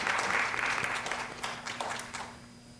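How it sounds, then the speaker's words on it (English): Applause from a crowd at a school board meeting, dense clapping that swells and then thins out and fades over a few seconds. "Give them a round of applause."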